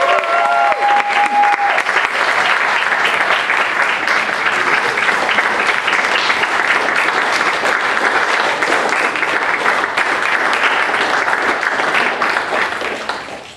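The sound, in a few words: applause for team crossing finish line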